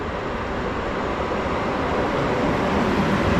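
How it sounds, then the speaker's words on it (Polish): TLK Marszałek Piłsudski passenger train in double traction rolling past, a loud, steady broadband rumble of wheels and locomotives close by, slowly swelling toward the end with no voices. "Melduje się pociąg TLK Marszałek Piłsudski"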